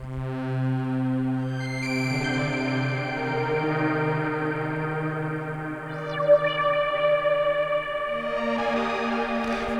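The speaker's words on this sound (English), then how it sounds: "Put a bit of reverb in it. Nice. Distort it up." Sustained tonal synth or instrument sound in a studio, drenched in reverb and echo and pushed into distortion, steady and loud throughout, swelling with brighter, harsher grit near the end; no talking.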